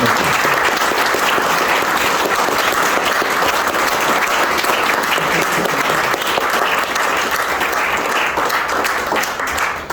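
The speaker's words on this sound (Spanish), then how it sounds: "pedirles unas fuertes palmas primero para Luis Francisco Palomino" A book-launch audience gives author Luis Francisco Palomino loud, sustained applause, a dense roar of many hands clapping without pause for the full ten seconds, close and full.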